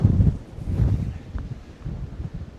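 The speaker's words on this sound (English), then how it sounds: "It's that windy out here. It's just insane." Strong gusting wind buffets the microphone outdoors on a frozen lake in February, a rough low roar that is loudest at the start and then eases into steady buffeting.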